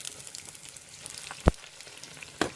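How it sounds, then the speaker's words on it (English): Oil crackles and sizzles steadily as ripe banana fritters fry in a pan, with a couple of sharper pops and clinks standing out from the hiss. "they've been frying for at least 3 minutes, so I'm just gonna turn it."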